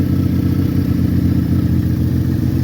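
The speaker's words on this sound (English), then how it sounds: "Warming up the Vanelli 6-cylinder." A six-cylinder Benelli motorcycle engine idles as it warms up, a loud, steady, close-up mechanical rumble with a fast even pulse and no talk.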